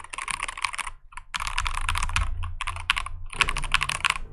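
Rapid keystrokes on a DrunkDeer G75 mechanical keyboard come in short flurries with small gaps, each press crisp and full, heard up close with nothing else over them.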